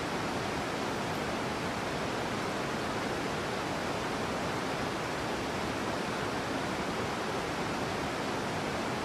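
A continuous, close hiss of falling water fills the scene at the base of Niagara Falls in the Real VR Fishing game, steady and even with no other sounds.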